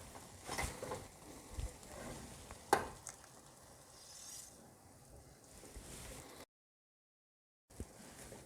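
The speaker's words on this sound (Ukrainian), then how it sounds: "І перемішуємо." Cream being stirred into softened onion and spinach in a pan for a spaghetti sauce, with soft sizzling and scraping strokes and a few sharper clinks, fairly quiet and close, briefly dropping to silence near the end.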